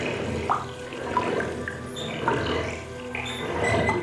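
Cartoon tap left running, a soft continuous stream of water with a few small splashy accents, steady and moderately close, with no voices over it.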